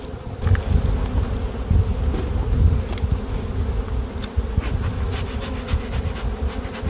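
Honey bees hum steadily inside an opened hive colony during a beekeeping inspection, a dense low drone with a thin sustained whine above it, continuous and close throughout.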